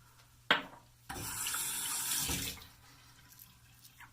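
Bathroom tap running while water is added to shaving lather: a short splash, then a steady gush of water from the faucet for about a second and a half before it stops, followed by faint trickles, close and clear.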